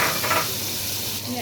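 Onions, peppers and garlic fry in two spoonfuls of oil in a pot, a steady close sizzle with stirring scrapes and brief spoon clatter.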